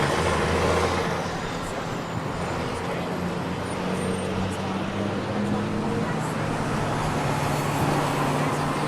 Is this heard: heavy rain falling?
no